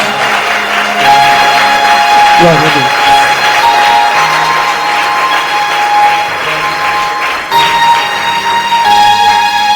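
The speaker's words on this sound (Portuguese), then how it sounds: "Você pode aplaudir Jesus?" A church congregation applauds steadily as a dense wash of clapping under loud voices and a spoken exclamation, continuing throughout.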